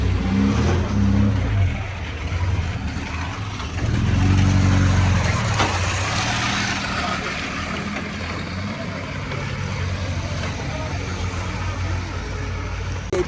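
A high-mileage Ford car engine runs steadily at idle with some revving, a low continuous drone throughout, and a person speaks briefly over it.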